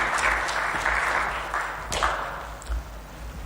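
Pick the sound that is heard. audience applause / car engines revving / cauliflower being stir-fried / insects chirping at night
audience applause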